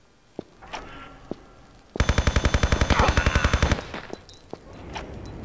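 Rapid-fire weapon in a Tomb Raider video game: a tight, fast burst of loud gunshots lasting almost two seconds, framed by a few single shots before and after, with faint game ambience between.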